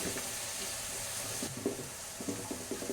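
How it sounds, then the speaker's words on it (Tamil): Onions with ginger garlic paste sauté in a pan for a fish gravy, giving a steady close sizzle with scattered scraping stirs and light clinks. No voices are heard. "அது கூட இஞ்சி பூண்டு பேஸ்ட்டை போட்டுக்கலாம். இஞ்சி பூண்டு பேஸ்ட்டும் நல்லா வதங்கணும்."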